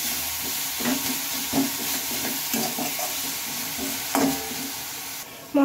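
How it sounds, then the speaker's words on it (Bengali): Coriander leaves being stirred into spice masala in a hot pan make a continuous sizzle, with repeated scraping and knocking of a spatula against the pan and a louder thump near the end. "এবার মশলার সাথে ধনে পাতাটা ভালোভাবে মিশিয়ে নিতে হবে।"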